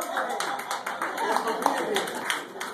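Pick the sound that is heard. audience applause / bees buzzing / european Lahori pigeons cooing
audience applause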